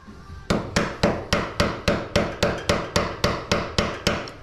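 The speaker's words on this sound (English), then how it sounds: "and tap it a little bit with a hammer." A hammer taps a flat screwdriver against a spanner nut on a Kawasaki Vulcan 900 motorcycle, giving about eight sharp, evenly spaced metallic knocks close by, each ringing out briefly.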